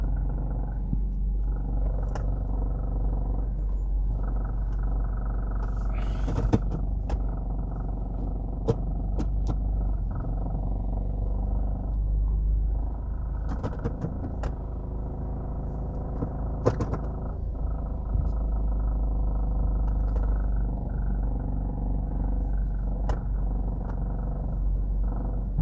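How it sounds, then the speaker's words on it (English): Steady low car-traffic rumble at a crowded Jamaican gas station with about 24 pumps and an oil tanker delivering fuel, continuous engine drone with occasional brief knocks and clunks, no talk. "you can see how busy this gas station is"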